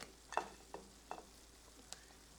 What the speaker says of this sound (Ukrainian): Відразу помішуємо їх, адже вони прилипають до дна каструлі.